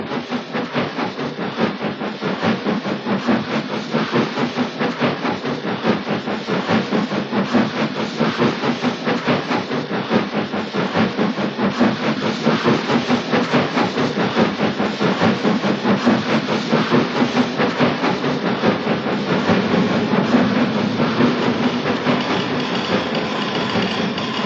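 A Consolidation steam locomotive with eight driving wheels hauls three coaches uphill on an Ecuadorian Andes railway, a steady, loud chuffing beat with hissing steam and rolling rail noise throughout, continuous and close, with no talk.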